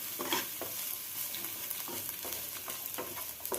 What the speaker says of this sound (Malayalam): 1 ടീസ്പൂൺ വെളിച്ചെണ്ണ ഒഴിച്ച് നല്ലപോലെ ഒന്ന് മിക്സ് ചെയ്ത് 3 വറ്റൽമുളക് കട്ട് ചെയ്തിട്ട് കൊടുത്ത്